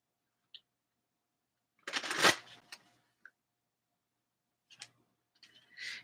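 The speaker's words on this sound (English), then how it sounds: "I want to pick some cards from the Osho Zen Tarot." Osho Zen Tarot cards being picked and shuffled: a few faint isolated clicks, then a short, close rustling riffle, followed by scattered soft card handling in a quiet room.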